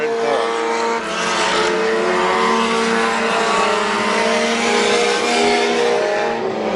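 Race cars roar around Midvale Speedway in a loud, continuous engine drone, with pitch shifting as the pack passes, while an announcer talks over the track sound.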